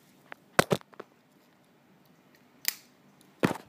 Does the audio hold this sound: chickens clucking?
no